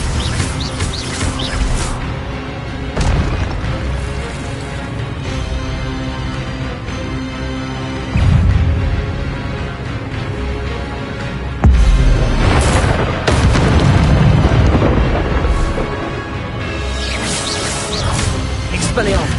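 Spell blasts crackle and boom amid battle effects and music in Hogwarts Legacy, repeated loud bursts layered over a dense game soundtrack with a voice calling out spells.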